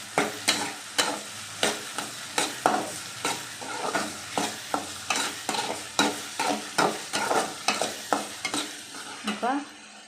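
Tomatoes for a South Indian peanut kara kuzhambu are stirred and fried in a pan, a spatula scraping in a quick regular rhythm, about two strokes a second, over a steady close sizzle, no voices.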